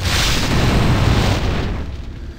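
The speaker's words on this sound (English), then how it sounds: "Explosions." Loud, booming explosions from the Baldur's Gate video game roar as a sustained rumbling blast that gradually fades toward the end.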